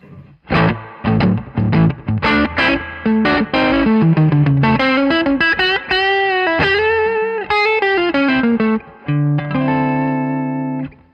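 An electric guitar with Fralin P92 pickups plays through distortion and effects, first in choppy strummed chords, then in sustained ringing notes and bends, loud and close with no talking.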